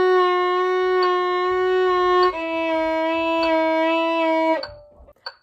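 Sustained bowed notes on a string instrument, two long half notes each pulsing with triplet vibrato, clear and alone, the second slightly lower before fading out.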